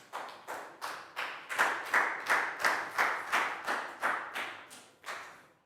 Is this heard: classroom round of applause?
yes